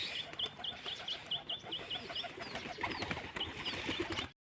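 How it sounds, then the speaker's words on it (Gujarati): Pigeons in a coop give repeated soft calls at a steady rhythm, with chicks chirping and wing flutters scattered through the clip. The calls sound close and moderately loud over a busy background of birds. "મિત્રો બધા કબૂતર બાયણે આવી ગયા હે"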